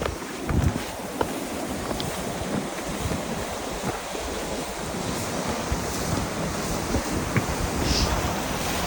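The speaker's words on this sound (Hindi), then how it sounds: "इसके अंदर ना वाटरफॉल अभी भी बह रहा है, मतलब पानी बह रहा है" At the frozen Lingti waterfall in winter Spiti, water keeps flowing beneath the ice as a steady broadband rush, heavily mixed with wind buffeting the microphone, with no talking.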